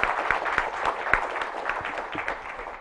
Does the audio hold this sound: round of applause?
yes